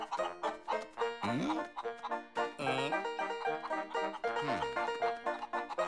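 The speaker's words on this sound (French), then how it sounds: "Monsieur Peabody, derrière vous, des poules avec des dents." Cartoon chickens cluck busily and continuously nearby, rapid overlapping clucks and a few rising squawks, fairly soft overall.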